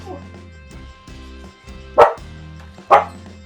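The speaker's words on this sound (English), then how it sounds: "And there are the puppies." Puppies give two sharp, excited barks, each standing out above a steady hum of background noise in a home kitchen where strawberry wine is being made.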